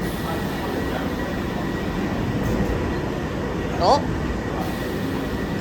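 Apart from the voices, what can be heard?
London Underground Piccadilly line train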